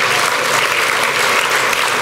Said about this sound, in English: Please, let's hear the applause for all of these Chuck Kane Leadership Award winners